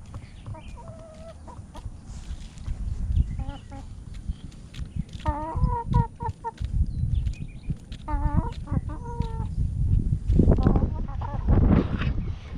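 Chickens cluck and chatter in short bursts close by while being fed watermelon, with rustling and scratching movement underneath throughout.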